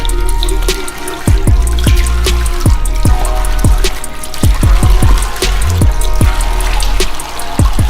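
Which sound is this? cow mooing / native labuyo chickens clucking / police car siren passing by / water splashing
water splashing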